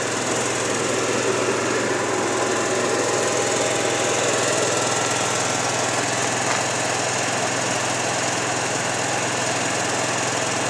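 A 5,500 watt Onan generator, 120/240 volt, mounted on a mobile fiber splicing trailer, runs with a steady, loud engine drone and dense mechanical hum, unchanging throughout with no voices.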